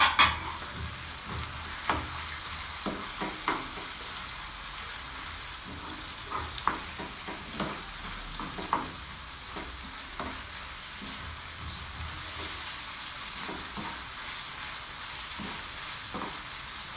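Kofta meatballs fry in a pan while being stirred, a constant crackling sizzle punctuated by repeated scraping and clinking stirs, loudest at the start and continuing steadily for the whole stretch without speech.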